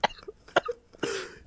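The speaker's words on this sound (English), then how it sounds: "I was almost sick from coughing there." A person coughs in short bursts: two quick, sharp coughs followed by a longer, rougher hacking cough and a final brief one, close and fairly quiet.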